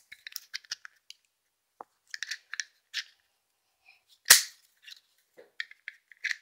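Toy cap gun being reloaded with light clicks and handling, then fired in one sharp, loud crack, with scattered small snaps and clicks around it.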